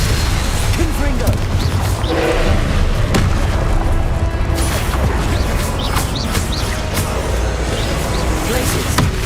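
Repeated Confringo blasting spells explode during a magic duel in the video game Hogwarts Legacy, giving several thudding booms over a busy wash of combat effects, with bright chirpy magical accents scattered throughout.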